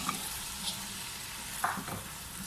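Chicken going into a pan of softened tomatoes for a village-style chicken pulao, giving a faint, even sizzle with a couple of light clinks and no speech.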